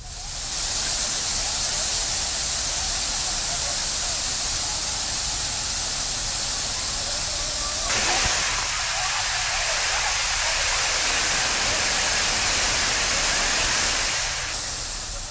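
Chinna Suruli waterfall, crowded with bathing tourists, sends down a loud, unbroken hiss of falling water that holds steady throughout, close and dense.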